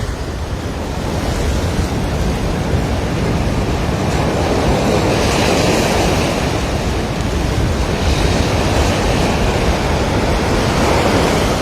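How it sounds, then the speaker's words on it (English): Strong wind blows along Waikiki beach during a Hawaiian rainstorm, a loud, steady broadband roar that swells and gusts throughout, with wind buffeting the microphone and possible surf underneath. "Well, that wind just really picked up."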